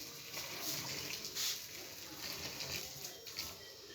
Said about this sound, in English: I'm going to pour hot water on it now and see how it goes.